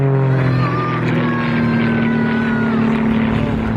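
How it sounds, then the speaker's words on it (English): A propeller-driven aerobatic airplane at a World War II weekend airshow passes overhead with a loud, steady engine drone whose pitch slides gradually during the pass. "it probably didn't climb like Jerry Wells' airplane. Right through the sun"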